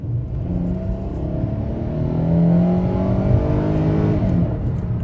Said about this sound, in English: Give you a little sound clip of the V6.